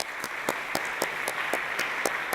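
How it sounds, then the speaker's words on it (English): Audience applause at a keynote lightning-talks event: steady, fairly rhythmic clapping from a modest crowd, close and moderately loud, with no talking over it. "Round of applause for Tony."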